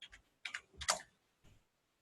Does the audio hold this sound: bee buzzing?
no